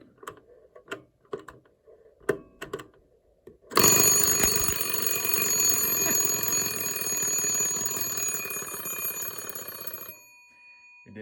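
An antique Ansonia Blackbird alarm clock, 110 years old and freshly wound, rings with a loud, continuous metallic bell rattle for about six seconds after some faint ticks and handling clicks, then stops abruptly.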